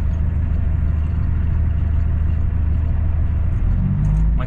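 A semi truck's diesel engine rumbles steadily at low speed as it pulls into the fuel pumps, loud and close, and the rumble deepens briefly near the end.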